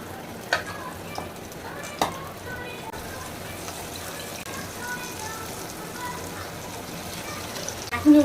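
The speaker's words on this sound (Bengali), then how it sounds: "আমি এখন এই টুকরোগুলোতে কোটিং লাগায় আমি এখন তেলে দিয়ে দেবো ভাজার জন্য" Coated beef bati kabab pieces sizzle in hot oil, a steady crackling fry running throughout with a couple of sharp splashes or clinks near the start, close and moderately loud.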